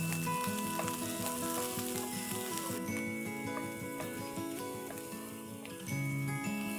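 Two finely chopped onions fry in hot oil with curry leaves for misal, a loud continuous sizzle with faint stirring clinks, steady throughout and without speech.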